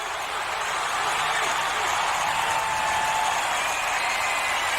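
Fenway Park crowd at a 2000 Yankees–Red Sox game cheering steadily after a triple to right center, a broad sustained roar of applause and shouting at even loudness, with a faint whistle rising above the din.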